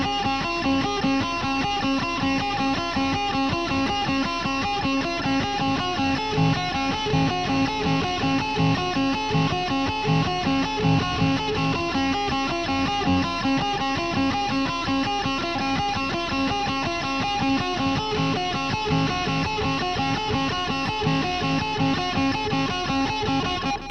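A riff played on guitar, a fast, steady stream of picked notes running nonstop for over twenty seconds, loud and dense, with no talking.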